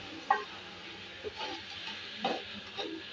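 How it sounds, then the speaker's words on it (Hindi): Masala with tomatoes and crushed coriander sautés in a pan for chana pulao, giving a soft, faint sizzle broken by a few light scrapes and stirring clicks of a spoon. "ये टमाटर डाल के इसको अच्छी तरह भूनते हैं।"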